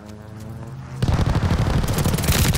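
Hostile air strafe run in Call of Duty: Vanguard, a quiet lead-in before a sudden loud, dense roar of rapid automatic gunfire and impacts that keeps pounding steadily to the end.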